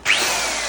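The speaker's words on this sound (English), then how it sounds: "Now that is how you repair a cord drill on site." A corded power drill on a bathroom job site spins up sharply and then runs at a steady, loud whine, close by and uninterrupted.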